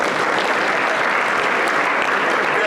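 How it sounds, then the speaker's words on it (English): An audience at the Emotional Intelligence Africa Summit 2022 applauds a speaker with a dense, even wash of clapping that stays loud and close throughout, with no breaks. "Let's clap for him."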